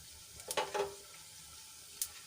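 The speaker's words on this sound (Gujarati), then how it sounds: "ચપટીક આપણે હિંગ એડ કરીશું અને આપણે એક તમાલપત્રનું પાન એક બાદિયું એક તજનો ટુકડો અને બે સૂકા મરચાં એડ કરીશું" Spices hit hot oil in a pan: a pinch of asafoetida, a bay leaf, star anise, a piece of cinnamon and two dried red chilies. They crackle in two short, faint sizzling bursts, with quiet gaps between them.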